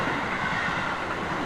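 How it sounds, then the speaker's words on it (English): A train rushes past at close range, a loud, steady roar of rolling wheels and rattling cars with no gaps or voices. "I heard a thunderous noise of train passing by right in front of me"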